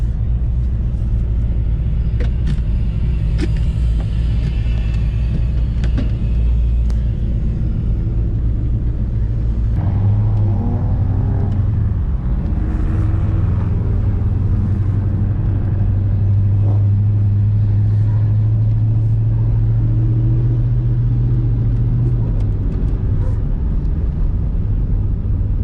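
Cars roar and rumble at a USDrift drifting event, a loud, continuous engine drone with a deep revving swell in the middle and no talk.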